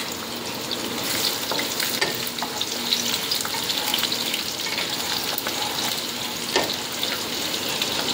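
Onions fry in hot oil in a pan in a home kitchen, a steady dense sizzle running throughout with occasional scrapes of stirring and no talking.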